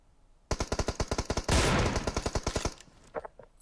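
Rapid bursts of automatic gunfire from a shooter video game, loud and close, with dense sustained firing in the middle, then a few scattered shots as it trails off.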